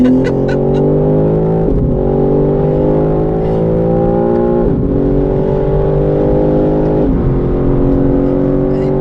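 BMW M3 CS on a race track straight, its engine loud and close as it pulls hard through the gears, pitch climbing steadily and dipping at each of three upshifts.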